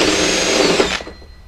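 A power drill working a hole through the metal wall of a cargo trailer, a loud close whine that runs steadily for about a second, then cuts off and fades.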